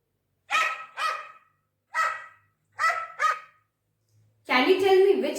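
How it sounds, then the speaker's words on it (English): A dog barking in a recorded animal-sounds lesson, five sharp separate barks at a steady pace, loud and close, then a longer growl-like bark at the end. "Yes, this is the sound of a dog."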